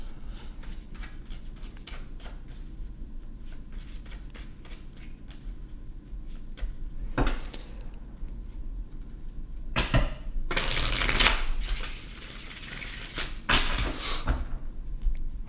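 Cards are riffled and shuffled in a few quick bursts of crisp fluttering, with soft taps and handling noises between them in a quiet room.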